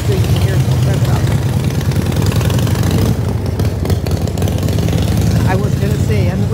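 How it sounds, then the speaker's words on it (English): A loud, rough car engine rumbles close by at a green light in Key West, revving and throbbing continuously with a brief dip midway, gritty and mechanical. "Watching who can hit the gas so you can hear it rev up."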